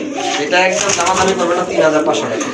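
A pair of pigeons for sale coos at close range, rounded warbling calls repeating with a person talking underneath.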